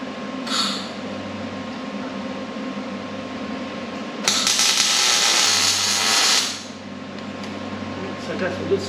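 Seat mounting brackets on a race car being welded, heard as a short buzz early on and then one loud, sustained welding burst lasting about two seconds, set against a steady low machine hum.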